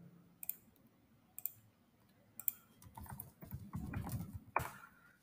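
Keys tapped on a computer keyboard in short irregular bursts of clicks, close and moderately loud, with a denser flurry of typing toward the end and no talking.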